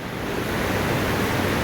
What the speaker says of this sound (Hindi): सुबह सुबह के टाइम दुबई में बारिश हो रही है